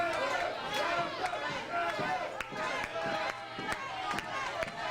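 Wrestling crowd at a Canadian independent show, cheering and shouting steadily as a wrestler is urged back to his feet, a dense roar with scattered sharp claps and cries alongside commentator talk.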